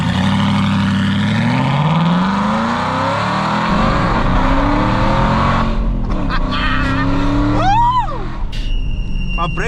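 A cheap Aston Martin's engine accelerates hard on a test drive, a loud rising roar with climbing pitch that steadies, then a brief sweeping whine near the end, heard from inside the car.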